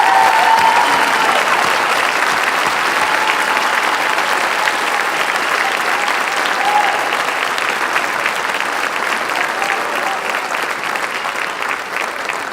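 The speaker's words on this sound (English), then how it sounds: "How about one big round of applause for all our merit awards?" A large audience applauds merit award recipients at a school honors night, a loud, sustained roar of clapping that holds steady for a long stretch and eases slightly toward the end.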